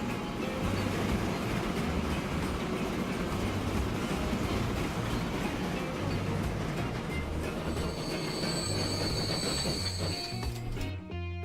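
Train running on rails in the video game Transport Fever, a steady loud rolling rumble with rhythmic wheel clatter, and a high metallic squeal of wheels rising near the end.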